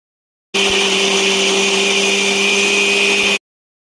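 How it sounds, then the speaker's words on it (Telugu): A kitchen mixer grinder blending fried tomato, onion and spice paste, running as one loud, steady whirring drone for about three seconds that starts and stops abruptly. "మిక్సీలో పట్టి పేస్ట్లా తయారు చేసుకున్నాను"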